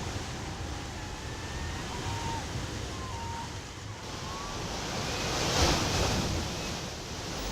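Sea waves rolling onto the coast, a steady broad wash of surf with a swell building louder toward the end, mixed with some wind noise.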